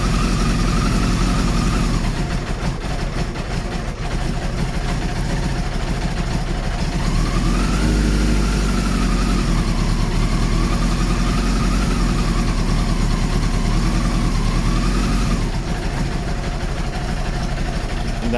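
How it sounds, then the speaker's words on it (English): A Kawasaki GPZ900R motorcycle idles on choke during a cold start, a loud, steady engine drone with a slight rise and waver in pitch, running continuously and close by without speech. "It's gonna be on choke for a while, like 20 seconds, and then we'll turn off the choke."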